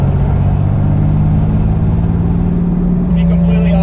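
Toyota Supra Turbo with a T56 Magnum F six-speed manual accelerating from about 35 mph, its engine a steady loud drone under a low gear hum, rising slightly near the end.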